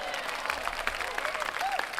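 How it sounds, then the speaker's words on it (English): Applause of moderate loudness, clustered clapping with faint voices mixed in, steady for a couple of seconds. "round of applause"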